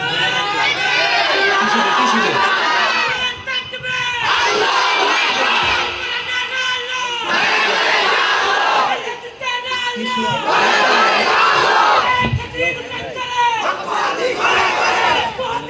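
A large crowd at a late-night Islamic song stage roars a takbir chant in loud repeated bursts, with brief pauses between each mass shout and the next.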